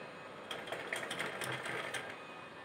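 A sewing machine runs a short, quiet line of stitching on a cotton cloth mask, with a soft rapid needle patter over a couple of seconds.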